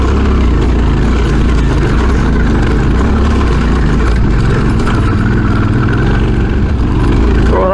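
Adventure motorbike with a 21-inch front wheel climbing rocky, loose-stone hills on an autumn trail ride, its engine droning loud and steady throughout with constant wind buffeting.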